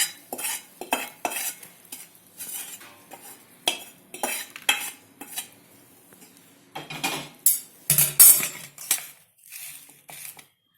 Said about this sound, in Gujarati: અને બધેને એકદમ બરાબર દાબી અને મિક્સ કરી નાખશું.